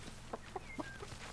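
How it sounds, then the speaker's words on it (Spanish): Short clucks from a chicken in the sword-fighting video game En Garde!, three or four quick calls spaced through the moment, fairly faint over a steady game background hum. "¿Puedes acariciar una gallina?"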